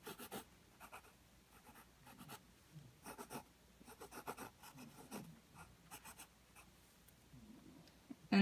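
Heavy pencil strokes scratch across paper while sketching letters, bursts of gritty scraping come in short irregular groups, close and fairly quiet, with pauses between letters and no talk.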